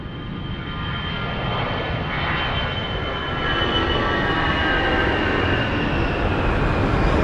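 An airliner takes off at Lisbon Airport, its jet engines a loud, steady broadband roar that builds slightly over several seconds, heard from a distance without talk.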